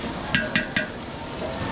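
Garlic and onion sautéing in a pan for spaghetti sauce, a soft steady sizzle with three sharp clinks of a utensil against the pan early on, fairly quiet.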